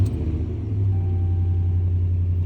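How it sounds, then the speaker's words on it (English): A car fitted with a breathalyzer ignition interlock starts up and settles into a steady, loud, close low engine rumble. "I can go ahead and start the car"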